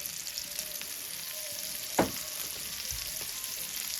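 Steady sizzling as seasoned New York strip steaks saute in a pan, a constant frying hiss with one sharp louder pop midway.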